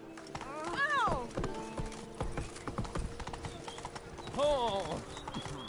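Hooves of Roach, the horse in The Witcher 3, clip-clop steadily at a gallop while the horse whinnies twice, with game speech running underneath.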